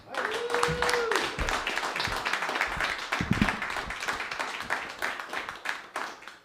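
Audience clapping at a storytelling open-mic night, steady dense applause from a room of listeners with a few louder bursts, some voices and a brief tone near the start.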